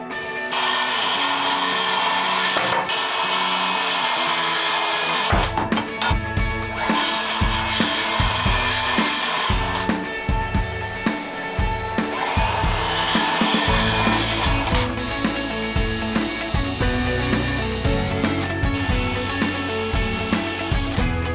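Power saw cutting wooden slider tracks, a loud, continuous whine that runs with brief pauses and restarts, close and dominating throughout with no voices.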